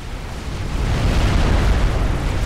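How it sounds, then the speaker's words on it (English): A nuclear strike detonates in a Supreme Commander 4v4 match, a sustained deep rumbling roar that swells over the first second and holds loud and dense with low-end boom throughout. "We hear yet another nuke out, also fired from Scorpy"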